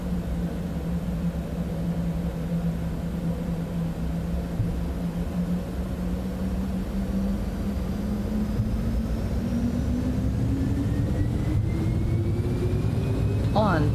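Citation X jet engines spooling up for takeoff in Microsoft Flight Simulator 2024, with a steady loud roar and a slowly rising whine, voices talking over it.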